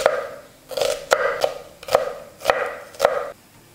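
A knife dices an onion on a cutting board, six distinct chopping strikes arriving in irregular bursts, close and clear with no talk.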